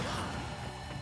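A hit sound from Mario's back air attack in a Super Smash Bros. tournament match, a short dense impact over a constant crowd and game hum.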